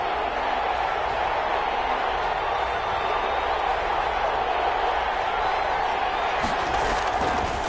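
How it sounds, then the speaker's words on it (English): Football stadium crowd cheering steadily before a big third down, a continuous broad roar of many voices rising slightly near the end. "the crowd getting into it as we come up on a big 3rd down"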